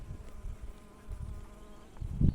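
Honeybees buzz at an early-spring hive while syrup feed is given, a low continuous drone swelling near the end as insects pass close by, with no talking.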